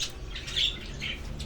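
Lovebirds and other caged birds calling at a bird market in Saudi Arabia, a few bright squawks and chirps rising over a busy background hum, with one louder call near the middle.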